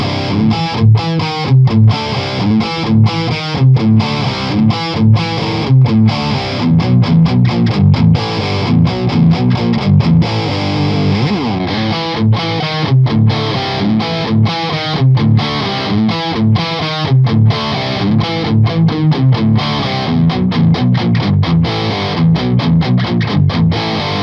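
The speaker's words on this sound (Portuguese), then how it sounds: "vou fazer amostras no canal 2 dele de distorção" A Staner Tube 100 guitar amplifier on its distortion channel 2, heard through Celestion and Nordik speakers, plays loud overdriven electric guitar riffs with choppy palm-muted rhythms and sustained chords, no talking over it.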